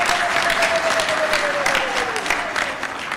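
A graduation ceremony crowd breaks into applause for the first woman to preside over the country's Supreme Court. The clapping is steady and fairly loud for about three seconds, with a voice speaking faintly over the start.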